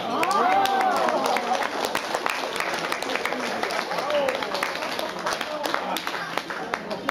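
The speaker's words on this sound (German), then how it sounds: "Applaus für Lydia" Steady applause from a crowd at a fashion show, dense clapping throughout with a voice and some cheering mixed in over it.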